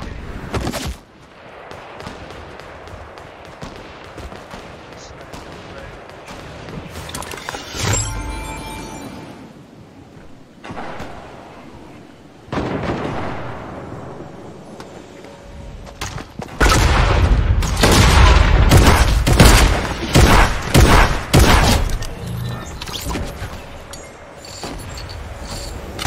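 Gunfire in a shooting video game where a player hunts shotgun eliminations: scattered shots and booms early on, then a long, dense burst of loud rapid fire and explosions in the second half, with no talk.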